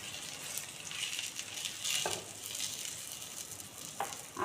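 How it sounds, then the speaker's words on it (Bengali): Dried chili and five-spice tempering sizzle in hot oil with pointed gourd, a soft, fairly faint crackling fry with a few brief spits and stirring scrapes, heard alone without voices. "শুকনো লঙ্কা আর 5 ফোড়ন ফোড়নে দিলাম।"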